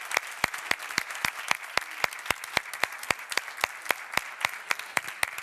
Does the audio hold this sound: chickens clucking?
no